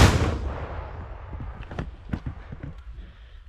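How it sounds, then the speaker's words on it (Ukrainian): A single heavy gunshot blast opens the clip at a wooded frontline position on New Year's, then a scatter of sharp cracks and thumps follows, distant and fading. "має бути постріл"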